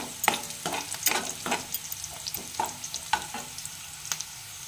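Onions and green chillies fry in hot oil, a steady close sizzle broken by repeated scraping stirs of a spatula every half second or so.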